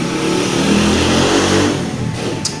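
A motorcycle engine revs with a steady, loud, rough drone that holds throughout and eases slightly toward the end.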